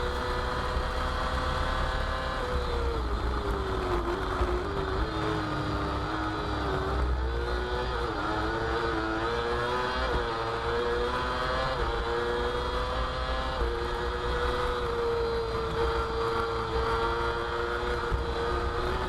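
F2 sidecar racing outfits scream around the Croft circuit through the S-bends onto the back straight, a continuous loud engine whine with shifting pitch held for nearly twenty seconds.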